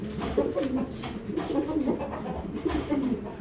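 A Giribaz pigeon coos close by in a repeated rolling, throaty pattern, three rising and falling phrases in a row.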